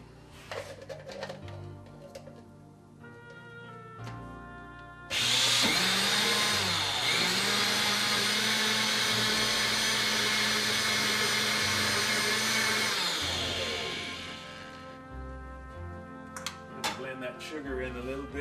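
An electric hand mixer whirs loudly and steadily for about eight seconds while beating brown sugar and eggs in a bowl, with quieter kitchen clatter and talk before and after.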